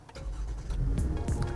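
A 2018 Toyota Camry engine cranks and fires up in a steady, loud burst, with a low rumble continuing through the short, close-up moment and no talking over it.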